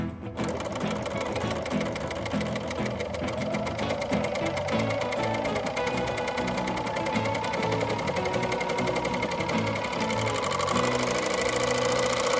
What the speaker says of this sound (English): And you can add your fabric and do your first test sew.